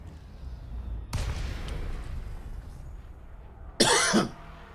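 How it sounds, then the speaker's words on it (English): Two separate coughing bursts from a person with a lingering cough, one sharp cough early on and a louder, harsher one near the end, with no talk over them. "they weren't kidding in the UK when they called it a 100-day cough"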